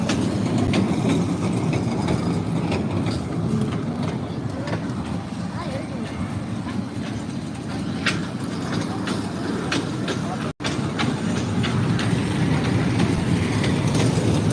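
A small fairground ride train rattles and rumbles steadily with faint clicking, while people talk over the noise.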